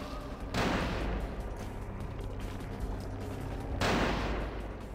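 Gunfire at a shooting range in the video game Vampire: The Masquerade - Bloodlines: two loud, sharp blasts over a steady dense rumble of shooting noise that fills the whole stretch.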